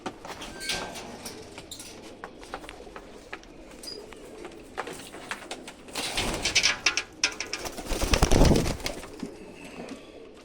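Pigeons coo softly and repeatedly at close range, with intermittent rustling and handling noises that swell into a louder burst of flapping or scuffling near the end.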